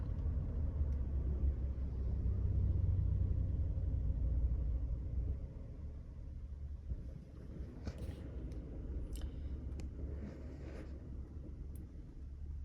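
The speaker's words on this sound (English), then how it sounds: "Engine's still running." A 2012 BMW 118i M Sport with a 2.0 engine and Steptronic gearbox that keeps cutting out, heard as a steady low idle rumble from close by, softening slightly halfway through, with faint clicks near the end.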